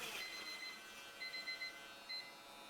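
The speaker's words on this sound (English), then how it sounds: "All right, timer's up." A timer alarm sounds in a gunsmith's workshop while parts are being gold-plated: repeated high electronic beeps in short groups over a steady background hum, with no one talking.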